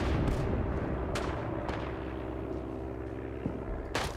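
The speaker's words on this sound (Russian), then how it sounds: "Вот слышу стрельбу оттуда и оттуда." Video game gunfire: sharp shots crack at irregular intervals over a rumbling, battle-like background, some nearer and louder, others more distant.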